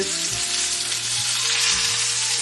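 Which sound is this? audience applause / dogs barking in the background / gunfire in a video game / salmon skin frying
salmon skin frying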